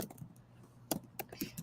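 Sparse computer keyboard keystrokes, a few separate clicks landing irregularly over a quiet indoor background, moderately close.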